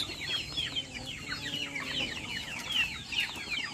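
A flock of Rhode Island Red chickens clucks steadily, with many soft, overlapping calls at a moderate distance and a faint ambient hum beneath.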